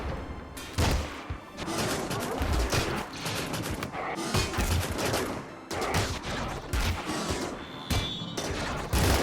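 Proton weapons fire nonstop in RimWorld with the RiftWorld mod, a dense barrage of loud overlapping shots and crashing impacts that never lets up.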